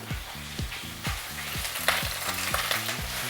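Pumpkin slices and garlic frying in a pot for mushroom soup, a steady sizzle with repeated scraping stirs throughout, close and alone without talk.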